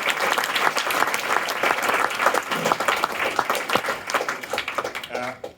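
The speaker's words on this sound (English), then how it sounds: "Can we just have a quick round of applause for David and Jess?" An audience at an info night applauds two presenters, lively clapping from a crowd with a few voices mixed in, swelling and then tapering off abruptly at the end.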